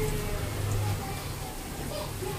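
Chicken pieces frying in a pan of onions already browned for biryani or pulao give off a steady, dense sizzle that holds even for the whole stretch, with no voices over it.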